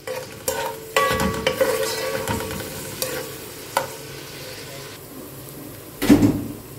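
Two medium chopped onions frying in a pan for Bombay chicken biryani, giving a steady sizzle with repeated spoon stirring and scraping and a few louder knocks against the pan, close up, with no talking.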